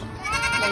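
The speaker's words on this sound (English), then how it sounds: "30-something Nigerian dwarf goats, all in this one spot." Nigerian dwarf goats in a crowded herd of about thirty let out a short, wavering bleat, close and clear over faint background noise.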